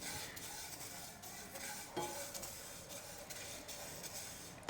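Spices lightly roasting in a pan over low heat while making a fresh turmeric pickle, with a faint sizzle and soft stirring scrapes, quiet and close.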